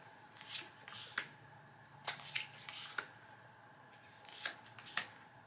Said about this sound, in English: Deal 4 comfort cards face up into slots.